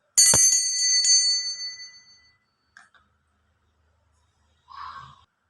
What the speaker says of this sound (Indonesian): saya akan memulai dengan lonceng tanda berbunyi